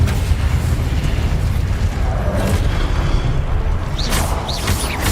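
Spell explosions in the wizarding game Hogwarts Legacy, deep rumbling booms forming a loud continuous roar, with bright whooshing spell bursts near the end.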